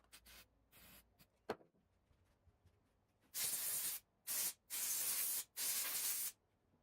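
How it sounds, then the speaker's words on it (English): Several sharp bursts of compressed air from an air compressor hiss loudly in quick succession, blowing out a bike part, following a few softer clicks and rustles. "use an air compressor to blow it out"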